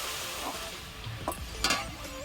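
Red amaranth greens fry in a pan with onion and chilli under a steady low sizzle, while a spatula scrapes and stirs them with a couple of sharper metallic clinks.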